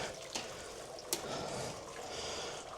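Quiet, steady trickling of water draining from a beer-brewing vessel, with a couple of faint clicks or knocks partway through.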